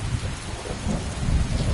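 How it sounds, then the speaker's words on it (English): Heavy rain pours steadily with rumbling thunder underneath, a dense, loud wash of downpour that swells slightly toward the end, with no voices. "The rain might be a little, intense in terms of audio."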